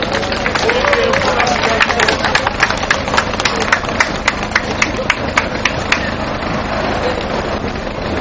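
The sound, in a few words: applause at a rally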